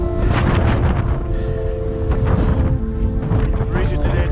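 Breezy autumn wind while cycling outdoors, a loud, continuous roar and buffeting across the microphone that swells and eases, with a faint steady hum underneath.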